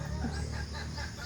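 Pet chickens clucking while being fed, soft low clucks close by against a faint background hum, with no talk over them.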